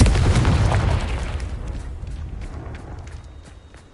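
A Confringo blasting spell in Hogwarts Legacy detonates with a single loud, deep boom that rolls out and fades slowly over several seconds, standing alone.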